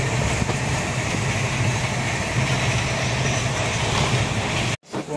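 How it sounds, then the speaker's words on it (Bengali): Train arriving at Pandit Deen Dayal Upadhyaya Junction, a steady loud rumble of wheels and carriage noise running throughout, cut off abruptly near the end. "এখন পণ্ডিত দীনদয়াল উপাধ্যায় জংশন ঢুকবে এবার।"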